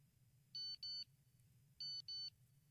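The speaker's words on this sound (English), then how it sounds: "this is what it's going to sound like when the egg timer hits. It's going to go beep, beep, beep, beep." An egg timer beeps in two pairs of short, bright electronic tones, the pairs spaced about a second apart, fairly quiet over a faint low background hum.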